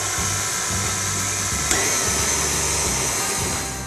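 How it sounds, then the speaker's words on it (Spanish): Eggs being beaten for sponge cake batter give a continuous, even mechanical whir, like an electric mixer running steadily up close with no talking. "ahora lo que vamos a hacer es batir mucho hasta que esto duplique, triplique su volumen"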